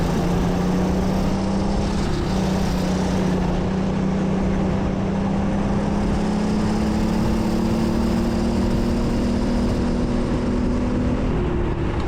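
A 50 mph twin-engined go-kart roars around an indoor kart track, its engines buzzing loud and close without a break while the pitch climbs slowly as it speeds up, with no talking.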